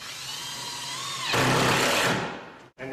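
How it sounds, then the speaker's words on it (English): A power drill drives a screw into a wooden lookout rafter, a close, loud whine that rises in pitch and strains as the screw bites, then cuts off briefly before spinning up again. "I'm just going to get my screw started here"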